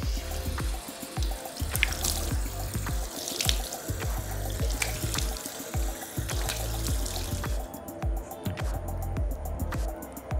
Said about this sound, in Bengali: এবার আমি প্রথমে জলের ঝাপটা দিয়ে মুখটা ভালো করে ধুয়ে নেব।